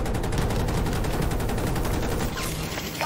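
Rapid automatic gunfire in Battlefield 2042, a dense, continuous fusillade of shots, loud and steady for most of the stretch before easing slightly near the end.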